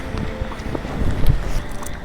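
Strong wind buffets the microphone in a loud, rumbling roar that swells into a heavier gust partway through, with fine drizzle falling, during night crabbing by torchlight.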